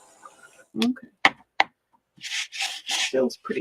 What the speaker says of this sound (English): Go ahead and give it a little bit of a sanding because it's kind of rough.